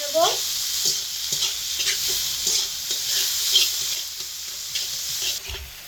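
Chopped onion and tomato sizzle and fry in hot oil in a pan, a steady close crackle with occasional stirring scrapes and a brief voice at the start.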